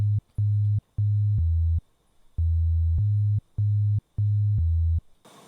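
A default synth bass preset in a DAW plays a clean, deep sine-like bass line in short repeated notes with gaps, a steady looping pattern, loud and alone, ending with a brief noise burst.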